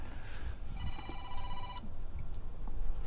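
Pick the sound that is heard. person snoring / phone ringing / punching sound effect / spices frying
phone ringing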